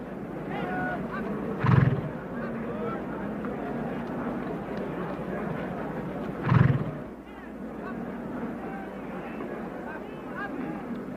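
Two loud horse whinnies ring out several seconds apart at a horse race, over a busy crowd murmur with people talking in the background.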